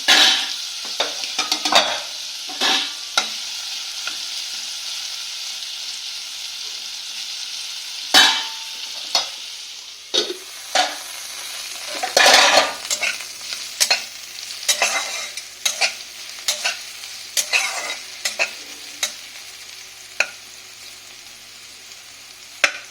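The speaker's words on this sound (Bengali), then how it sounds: "আমি এই আলুটাকে আমি একটু ভালো করে লাল লাল করে ভেজে নেব। ঢাকা চাপা দিয়ে ভাজবো।" Potatoes frying with turmeric in a covered pan, a steady hiss of sizzling oil broken by repeated clanks and scrapes of a spatula stirring against the pan.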